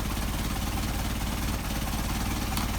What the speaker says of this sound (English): So you can see right now we're idling at about 450